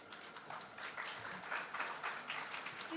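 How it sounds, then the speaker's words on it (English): Audience applause at a national science quiz competition, a steady wash of clapping from a moderately sized crowd, fairly soft and continuous. "Please put a big round of applause for sir."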